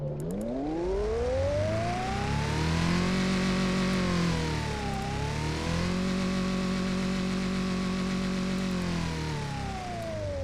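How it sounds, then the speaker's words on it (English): A supercharged engine in a 1970s Soviet-style car in the Automation game revs up loud and steady, whining pitch climbing, dipping briefly mid-way, then climbing and holding again with a continuous droning tone. "Look, I'll rev the engine."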